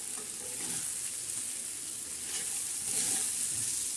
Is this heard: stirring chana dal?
yes